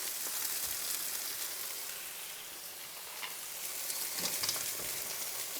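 Coquillettes pasta with plenty of wine sizzles and bubbles steadily in a pan as it is stirred, a soft, even frying hiss with faint scraping, no voices.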